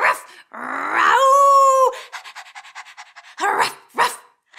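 A person imitates a dog with playful barks, a drawn-out growling whine and quick panting breaths, then two more short barks, loud and close with no other sounds.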